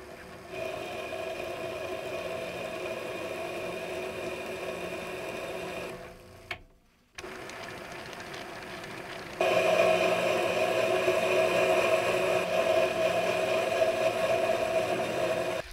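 A mini lathe cutting a thread, its motor whirring with a steady mechanical drone; the sound drops out briefly midway, then resumes louder and slightly rougher.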